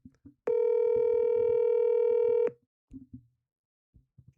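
A telephone line rings once in a steady two-second electronic tone, loud and clean, with faint murmuring before and after it.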